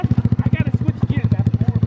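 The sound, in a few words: motorcycle engine bogging out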